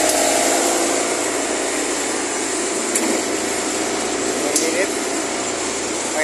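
An air conditioner's fan motor running as a steady broadband whir with faint mechanical ticks, continuous and close throughout.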